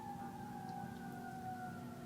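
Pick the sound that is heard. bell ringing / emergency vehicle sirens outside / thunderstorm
emergency vehicle sirens outside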